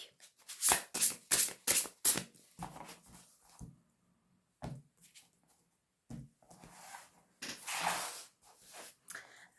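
Large tarot cards being shuffled, with several quick riffling bursts close up, brief pauses between them and a longer flurry near the end, no talking.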